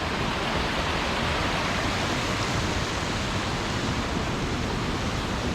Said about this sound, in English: There's so many different falls that run and interconnect, and the sound of the churning water is just electric.